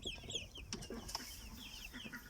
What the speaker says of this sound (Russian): Тут у нас 3 петушка осталось